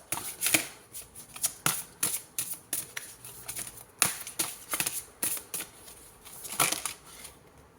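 Tarot cards being shuffled and drawn, a run of crisp riffling slaps and flicks in quick irregular bursts, close and fairly loud with no talking.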